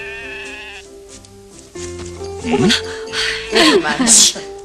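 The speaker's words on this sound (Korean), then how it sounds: "염소!" A goat bleats loudly several times in wavering, nasal cries near the end, over background music with a steady held tone.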